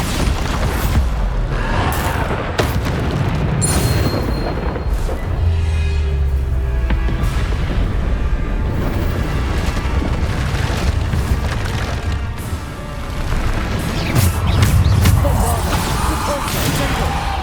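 Bombarda spell explosions burst in Hogwarts Legacy, loud booming blasts and crashes rolling continuously through the scene with game effects layered over a rumbling background.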